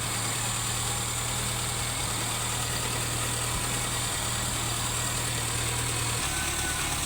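A car engine idles steadily with the hood open during an alternator check, a constant close, even hum with a low droning tone and no speech.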